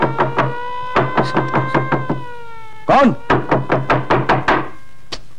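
Someone bangs hard on a wooden door in a Hindi film scene, with two fast bursts of repeated knocks, each about eight to ten blows, loud and close. A man's short spoken question falls between the bursts.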